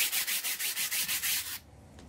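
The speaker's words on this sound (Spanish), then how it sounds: "a seguir lijando" Wet sandpaper rubbed dry across a Fiat 600 door panel in steady back-and-forth strokes, about eight rhythmic close rasps that then stop.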